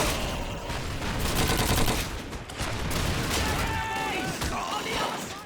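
Gunfire rattles through a World War II battle in Call of Duty 2, a dense continuous barrage of rifle and machine-gun shots with distant explosions, all under someone talking steadily.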